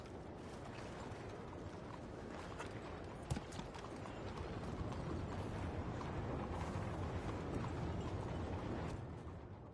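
Horse hooves clop steadily over a dense, rumbling background in the video game Red Dead, muffled and fairly faint, with a few sharper knocks along the way.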